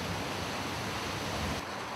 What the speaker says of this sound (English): There's the Auckland rain.